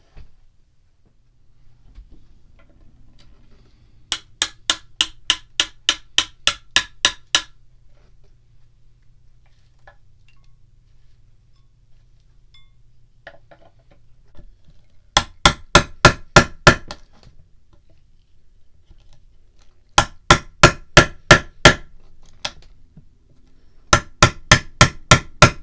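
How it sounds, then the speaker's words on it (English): A hammer drives a chisel on a Jaguar car in four loud bursts of rapid, evenly spaced metallic strikes, with quiet pauses between them. "I did as best I could with a drill and chisel"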